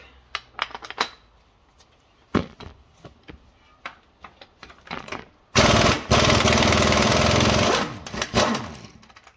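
Power tool driving a new socket on the tight crank pulley bolt of a 2014 Honda CRV, first short rattling bursts of impacts, then a loud sustained hammering run of about three seconds that ends abruptly.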